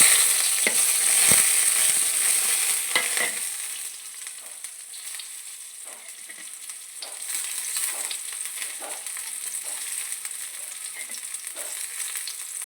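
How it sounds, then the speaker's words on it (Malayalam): Chopped onions frying in hot oil in a small wok-style pan for tempering a prawn and drumstick curry: a bright crackling sizzle, louder at first and then settling, broken by occasional stirring clicks, no voices. "ഇനിയിപ്പോൾ നമുക്കിതിലേക്ക് ഉള്ളി ഇട്ട് കൊടുക്കാം."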